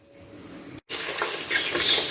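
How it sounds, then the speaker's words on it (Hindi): Meat frying in oil with ginger garlic paste for chukandar gosht: a quiet start, a brief gap, then a loud, continuous sizzle and crackle. "अदरक लहसुन का पेस्ट डाल के हमने गोश्त को अच्छा सा भून लेना है"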